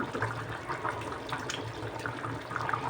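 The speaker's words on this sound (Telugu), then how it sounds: "ముందుగా చింతపండు గుజ్జంతా తీసి దీంట్లో పోసేద్దాం" Soaked tamarind pulp pours into a simmering curry of dosakaya and dried fish, giving a soft, continuous watery splashing and trickling at moderate level with no speech.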